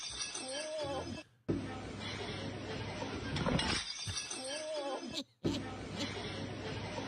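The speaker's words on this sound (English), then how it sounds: "Somebody's doing a skateboarding trick and crashes into some glass window or something like that" Glass shattering as a skateboarder crashes into a window, a loud sustained burst of breaking and tinkling debris with a couple of abrupt cuts, dense and close throughout.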